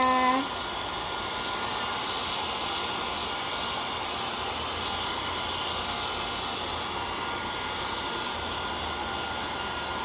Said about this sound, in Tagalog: Mag-blower na po si Helga.